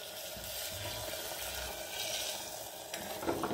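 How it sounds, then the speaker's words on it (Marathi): Drumstick cooking water poured into a hot pan of sautéed drumsticks, a soft continuous sizzle and watery hiss that swells partway through, with faint stirring and no voices. "यामध्ये हे शेवग्याच्या शेंगेचं जे पाणी होतं ते आपण टाकून घेऊया."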